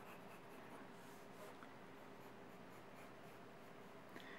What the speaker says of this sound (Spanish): Y ya voy marcando y dibujando los músculos directamente.